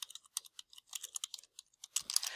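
Rapid computer keyboard typing with irregular clicks and key taps, close and fairly quiet, ending in a quicker denser burst of keystrokes.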